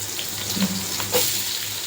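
Chopped onions sauté in a hot pan for egg curry, a steady soft sizzle with faint crackle and a brief scrape of stirring, close and uninterrupted by talk.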